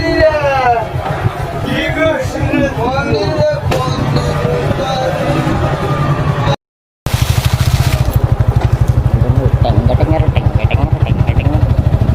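A motorcycle engine drones steadily while being ridden at a busy fair, its low pulsing note running throughout under loud chatter and a crowd, broken by a brief dropout in the middle.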